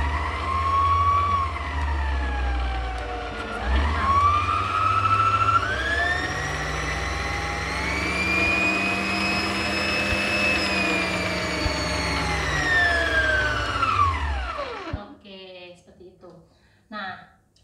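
An Idealife IL221S stand mixer runs with a steady, fairly loud motor whine that rises and dips in pitch as it works, then cuts off near the end, followed by brief speech.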